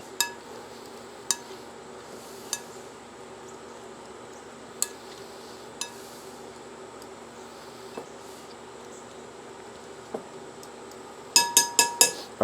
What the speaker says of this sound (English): I'm gonna take and stir this in. Get all of these coated.